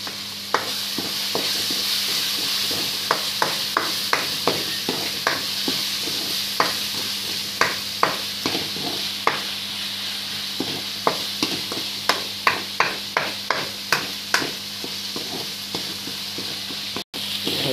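Onions fry with turmeric in a pan, a steady close sizzle under many crisp scraping and tapping strokes from a spoon stirring at an uneven, frequent pace, with no talking.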